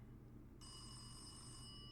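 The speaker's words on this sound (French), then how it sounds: "La sonnerie semblait provenir de là-bas" A telephone starts ringing in a dark building's reception hall, a steady electronic bell tone that begins abruptly and continues faintly over a low background rumble.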